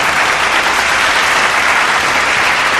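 Steady, dense applause from a crowd at a hip hop show, loud and continuous throughout with no voices over it.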